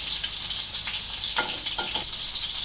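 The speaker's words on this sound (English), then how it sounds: "we got the butter all sizzling" Steady, bright sizzle of butter frying in a hot skillet before pancetta goes in, a continuous crackling hiss with a few soft clinks, no voices.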